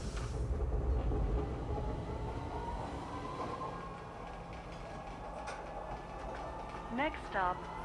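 A train in a video game rumbles at a station, with a steady low rail drone and clatter and a few brief high squeals near the end. Quiet ambient voices sit under the noise.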